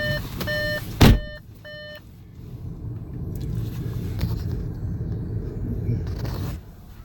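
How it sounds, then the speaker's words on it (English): Four short, evenly spaced electronic reversing beeps from a vehicle sound over a steady low traffic rumble, followed by a single heavy thud. The rumble continues after the beeping stops. "Sorry about the beeping."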